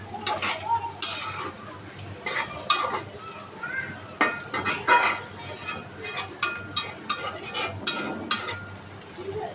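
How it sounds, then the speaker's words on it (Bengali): Prawns tossed and mixed with spices in a pan, with close, irregular scrapes and metallic clinks of a utensil against cookware over a light sizzle, no voices. "মশলার সঙ্গে মাছগুলিকে ভালোভাবে ছিঁড়ে একটু মিশিয়ে নিচ্ছি"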